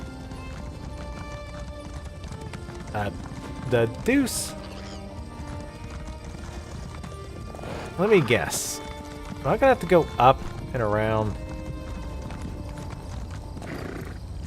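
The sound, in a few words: horse galloping hooves in Elder Scrolls Online video game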